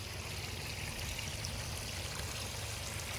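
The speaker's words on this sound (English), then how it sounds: "I let the sweet potato water run all night." Irrigation water running steadily over soaked sweet potato beds, a continuous close rushing flow with no breaks.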